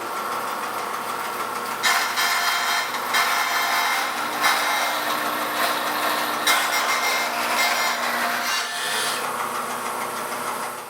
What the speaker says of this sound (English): So I'm going to just cut inlay strips.